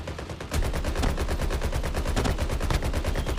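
Rapid automatic gunfire from the mobile shooter game Call of Duty Mobile bursts in after a brief pause and stays loud and continuous as dense, overlapping shots until the end.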